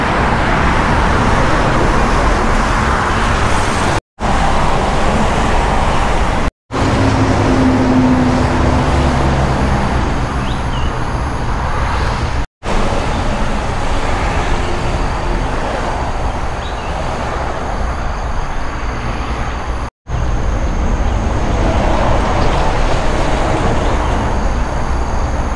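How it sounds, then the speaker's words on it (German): Steady road traffic noise heard from a motorcycle riding near Korat, a dense continuous rumble of cars and engines with wind, loud throughout and broken by a few brief dropouts. "Spaß macht das nicht bei dem Verkehr."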